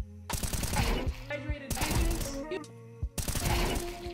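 Rifle fire in the video game Counter-Strike 2 rattles out in three loud, rapid bursts separated by brief pauses, each a dense string of close sharp shots.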